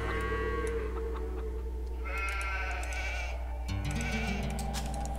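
Sheep bleat repeatedly in the Age of Empires II strategy game, several wavering calls over a constant loud game soundtrack and ambience.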